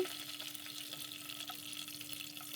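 Bay leaves fry in a pan of ghee and white oil with a soft, even sizzle that holds steady and faint throughout, and no one speaks.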